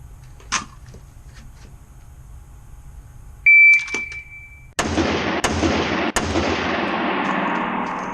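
A shot timer beeps at an indoor gun range, a sharp electronic tone, followed moments later by loud rifle shots cracking close by, three reports with long reverberant decay in the enclosed range.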